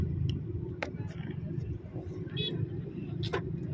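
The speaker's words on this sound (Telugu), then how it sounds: "సో ఇక్కడ బాగా ట్రాఫిక్ ఎక్కువగా ఉంది." Road traffic jammed near the Edupayala Durgamma temple in Telangana: a steady, close rumble of vehicle engines with brief higher-pitched bursts, with voices talking over it.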